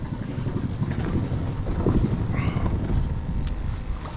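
A boat's motor runs in reverse, backing out while fishing for sheepshead, as a steady low rumble buried under heavy wind buffeting the microphone.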